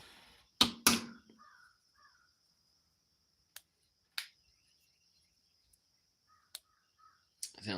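Crows caw in short harsh bursts, a few near and loud, others faint and scattered across an otherwise quiet outdoor scene.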